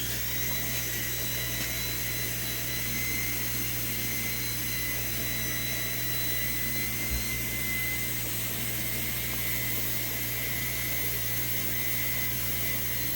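A buffing wheel polishes the trigger guard of a Colt 25 pistol being prepared for nickel plating, producing a steady, faint motor whine and broadband hiss that runs unbroken throughout.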